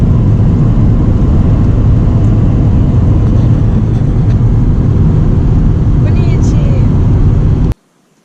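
A car driving along a road on a farm trip in Iceland gives off a steady, loud low rumble of engine and road noise that holds constant, then cuts off abruptly near the end.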